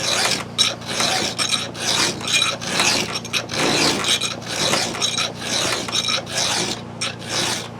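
Hand file sharpening a Husqvarna 445 chainsaw chain: a close, rhythmic series of rasping strokes, each a bright scraping burst separated by short pauses, with no talk.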